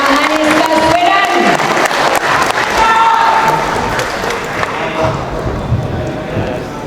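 An audience at a labour union rally for a political speech by a politician breaks into loud, dense applause mixed with crowd noise and cheering, voices rising through it before the sound thins toward the end.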